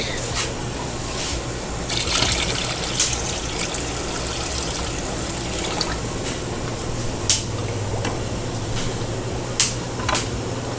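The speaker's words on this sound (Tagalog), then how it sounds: "Bawasan na natin ng tubig." Water is drained from a guppy fish tank on a guppy farm, a steady running, trickling flow with scattered drips and splashes, fairly close and continuous throughout.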